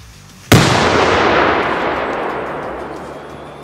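A single loud firework blast cracks sharply and close, followed by a long, fading rumble and crackling tail that lingers for several seconds.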